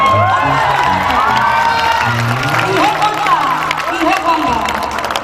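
A crowd at a temple claps hands loudly with arms raised, mixed with cheering, whoops and children shouting, while voices chant and talk over the clapping throughout.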